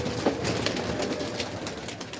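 A golden pigeon coos softly, nearby, with a few low calls over a faint steady background hiss.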